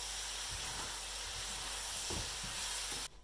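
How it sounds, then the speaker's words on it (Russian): Sauerkraut frying in a pan gives a steady, close sizzling hiss with a few soft stirring knocks, then cuts off abruptly near the end. "И нужно немножко капусту обжарить."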